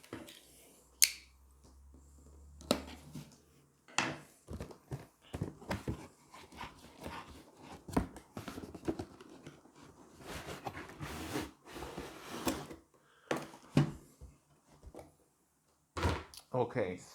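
Cardboard and plastic packaging of a Nerf Fortnite SMG blaster being opened by hand, with close clicks, thumps, tearing and sliding scrapes in irregular bursts while someone talks over it.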